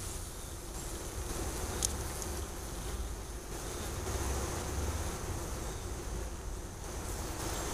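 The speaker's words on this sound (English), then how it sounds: "A lot of bees." A dense, continuous drone of many honey bees buzzing close by in an open hive during an October inspection, steady and enveloping with no talking.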